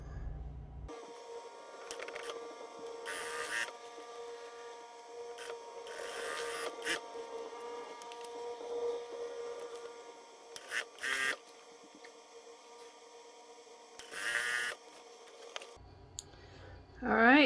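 A sewing machine runs in a steady whirring stretch while sewing quilt block corners, with intermittent clicks and brief rustles of fabric handling, close and moderately quiet.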